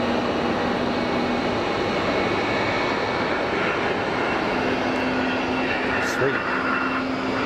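An airliner rolls out after landing at Geneva Airport with its thrust reversers deployed, giving a steady, loud, broadband jet roar that holds throughout, with a faint voice briefly over it.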